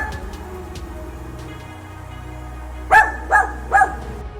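A dachshund barking three times in quick succession, loud and close, after a stretch of quieter room noise.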